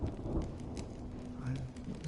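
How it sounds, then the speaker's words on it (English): Steady rain pours in the Honkai Star Rail video game, a dense continuous hiss with low rumbling underneath, heard alone without talk. "When will this rain ever stop?"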